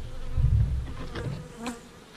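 Honey bees buzz around an opened hive while a beekeeper pulls frames, a low droning hum with individual bees passing close, fading slightly toward the end.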